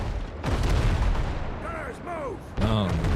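Ship cannons booming in a pirate naval battle in the game Windrose, several heavy blasts at the start and later, loud and close, with voices and other game sounds mixed in.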